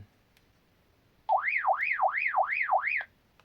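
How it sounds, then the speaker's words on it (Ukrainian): The alarm on a Baofeng UV-25 walkie-talkie sounds a warbling electronic siren, a tone sweeping rapidly up and down about five times for nearly two seconds before cutting off, clear and close in a quiet room. "Дивіться, бачите, тут ще є така сигналізація."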